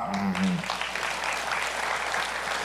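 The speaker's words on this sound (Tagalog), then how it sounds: "Lahat ng masaya, pumalakpak." A church congregation breaks into steady, full-room applause during a Sunday morning worship service, with a brief voice at the very start before the clapping takes over.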